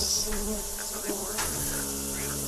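A voice imitating insect buzzing, a sustained nasal droning hum held steadily and close, with slight pitch wobbles along the way.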